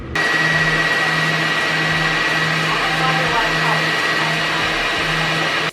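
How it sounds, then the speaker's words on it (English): A heated hooded hair dryer runs steadily and close by, a constant broad whoosh with a low motor hum and a faint high whine, holding level from start to finish. "now I'm gonna sit under a heated blow dryer. Yeah, like a hooded dryer"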